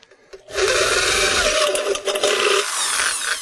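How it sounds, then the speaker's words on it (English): A larger drill bit bores a mounting hole for a BNC connector, a steady loud whirring grind starting after a brief quiet moment and running continuously to the end, with no talking. "Now we're going to use our larger bit that we've determined is about the right size to mount our BNC connector."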